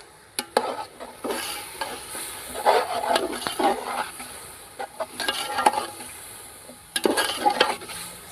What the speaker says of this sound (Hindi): तो अब इन चनों को मैं थोड़ी 1 से 2 मिनट ही इसको भून लूँगी अच्छी तरह से